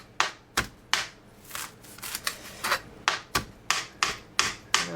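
A kitchen knife chops fresh parsley on a cutting board, giving about a dozen sharp, evenly spaced strikes at close range with no voice over them.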